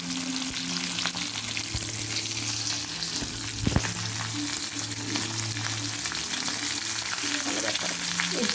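Mustard seeds, cumin, onions and curry leaves sizzle steadily in hot oil, with an occasional clatter of a spoon stirring the pan, loud and close throughout.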